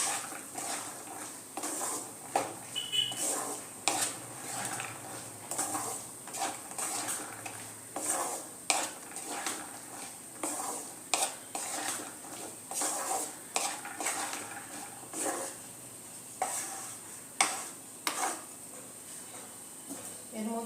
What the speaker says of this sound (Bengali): মশলার সাথে মটরশুঁটিগুলোকে ভালো মতো মিশিয়ে দেবো।